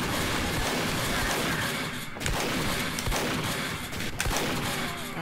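Shotgun buckshot fire in Team Fortress 2, a string of heavy blasts landing every second or so inside a dense, constant roar of game combat noise, with no clean gaps between shots.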